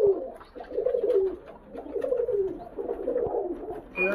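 Pigeons coo steadily in a loft in Bagnan, with overlapping rolling, throaty calls rising and falling throughout, close and moderately loud, with no voices.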